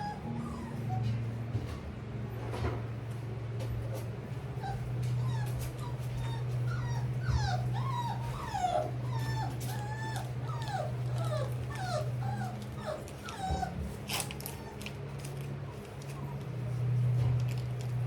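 Newborn bullmastiff puppies whimper and yip in a litter, high, wavering cries repeating close by over a low steady hum, with a few faint grunts.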